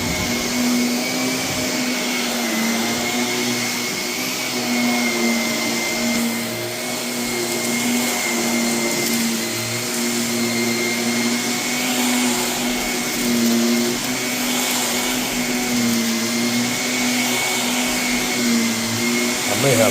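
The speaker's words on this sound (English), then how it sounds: "I can just go over the carpet and it just picks up all the metal debris" Canister vacuum cleaner running steadily over carpet, sucking up metal debris, with a constant loud whine and a faint rattle of particles throughout.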